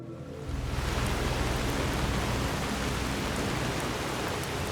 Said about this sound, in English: So this is rain and thunder